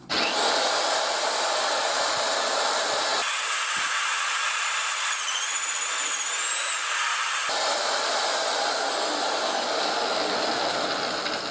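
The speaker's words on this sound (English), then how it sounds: "I'll turn on the drill and drill it out." A drill press bores a center-bit hole through a block of wood, giving a steady, loud whirring and grinding that runs on continuously with slight shifts in tone as the bit cuts.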